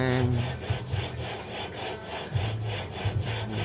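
A minibike part being rubbed back and forth by hand during a governor delete gives steady, raspy scraping strokes in an even rhythm, close and fairly loud with no talk.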